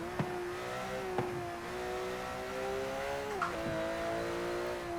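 In Forza Horizon 4, a rear-engine Porsche race car gives a high-pitched intake wail that climbs steadily through the revs, broken by a few quick gear-shift dips, with no talk over it.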